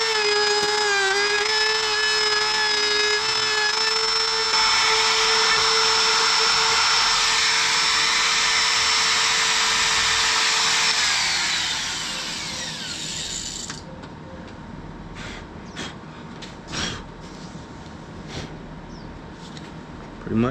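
Router mortising a hinge recess into a closet door, a loud steady high-pitched motor whine with cutting noise that spins down and stops, followed by faint clicks and handling sounds.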